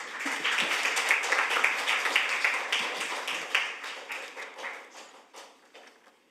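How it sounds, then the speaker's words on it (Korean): Steady applause from an audience at a National Assembly Research Service briefing, dense and sustained, thinning out toward the end. "큰 박수 부탁드립니다"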